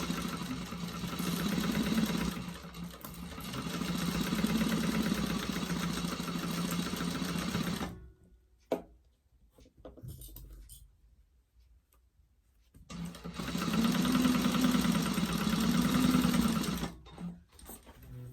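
A sewing machine backstitches a seam with a 3/8 inch allowance while making the Trailblazer convertible pack: a steady, close mechanical whir in two long runs separated by a quiet pause.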